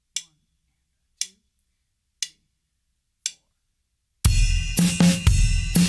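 Four sharp, evenly spaced stick clicks count off in near silence, then a full drum kit jumps in loud and close with a busy jazz-rock samba groove of hand and foot patterns, cut short after a couple of seconds.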